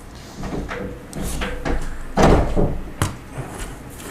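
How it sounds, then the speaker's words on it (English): Toy or cabinet doors on a Lego Chima Spinlyn's Cavern set opening and shutting several times, soft knocks and clacks scattered through the clip with one louder thud near the middle. "everyone can hear those doors opening and shutting"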